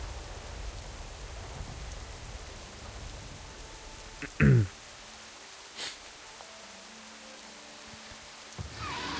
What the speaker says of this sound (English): Oh, good, some rain effects.